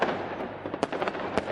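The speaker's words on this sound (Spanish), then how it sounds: "Entonces empezaron a quemar cohetes en todo el pueblo." Firework rockets set off across a village in celebration pop and crackle in a dense, uneven series, with sharp individual bangs standing out over a continuous hissing, sputtering backdrop.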